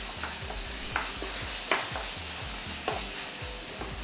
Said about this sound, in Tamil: நல்லா மிக்ஸ் பண்ணுறோம்.